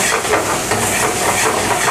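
Capsicum and onion frying in ghee in a village-style eatery kitchen near Ramol toll give a loud, dense, continuous hiss, close and unbroken for the whole stretch, with no talking.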